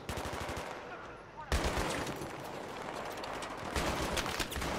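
Automatic gunfire in the Battlefield 3 video game, a dense rapid stream of machine-gun bursts that cuts out briefly, then resumes loud and close and continues without pause.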